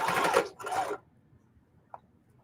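A sewing machine stitches a feedbag tote in two short close bursts of rapid whirring, then stops, followed by near silence and a faint click.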